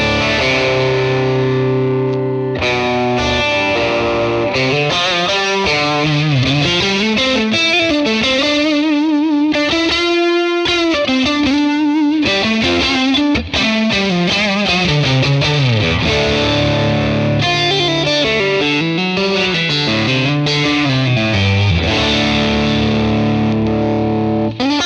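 Electric guitar through a Tonex capture of a Blues Breaker amp, bright and driven with light distortion, a loud continuous run of sustained notes, bends and chords with a brief gap near the middle, no talking.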